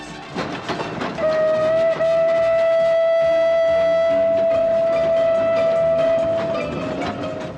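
A steam locomotive whistle in a western film blows a long, loud, steady note for several seconds, cutting in with a short opening toot, over rumbling train noise and clatter.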